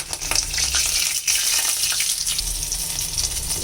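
Green chilli, nigella seeds and fenugreek tempering in hot oil for a bottle gourd stem and potato curry, a loud continuous crackling sizzle close up with a brief dip partway through.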